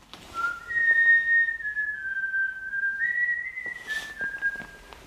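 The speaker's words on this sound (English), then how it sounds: "just heard a whistle" A single person whistles a clear, sustained tune of gliding pitches in a quiet room, close and fairly loud, with a brief pause midway and no talk.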